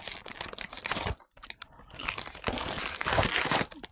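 Crisp, loud crunching and crinkling from biting and chewing organic cheese crackers made with real cheese, close to the mic, with a short pause midway and no talking.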